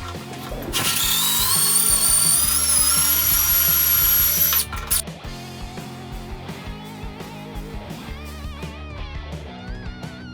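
A power drill whines loudly and steadily for a few seconds, boring holes through the laminated wood top of a Beta C24SL rolling tool cabinet, then stops. Quieter clicks and handling noises follow.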